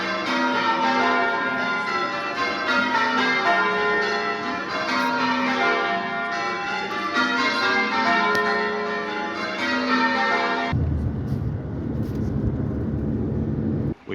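Church bells in a brick-built secular tower at Whitstable ring out in a loud, dense peal of overlapping strikes, then stop abruptly, leaving a low rumble of passing traffic.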